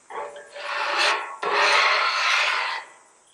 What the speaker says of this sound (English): I'm just giving it a light scrape to get all the stuff off the griddle